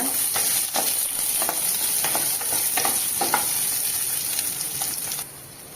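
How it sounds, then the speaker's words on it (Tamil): Shallots are stirred into black nightshade greens in a hot pan, giving a constant crackling sizzle broken by regular spatula scrapes, and the sizzle fades away at the very end. "இது கூடவே கட் பண்ணி வச்ச அந்த சின்ன வெங்காயத்தை சேர்த்துக்கலாங்க அதுவும் நல்லா கலந்து கொடுங்க"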